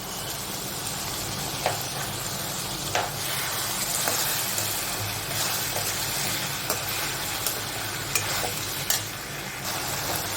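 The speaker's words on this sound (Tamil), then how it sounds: "இப்போது வெங்காய தக்காளி ஓரளவு வதங்கிடுச்சு அதோடையும் மொச்சக்காய் சேர்த்துக்கலாம்" Onion, tomato and mochai beans fry in a pan with a continuous loud sizzle, while a spoon scrapes and knocks against the pan every second or two.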